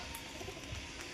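A pigeon coos softly in a low, muffled murmur beneath steady rooftop background noise, while a newly kept pigeon sits near a house.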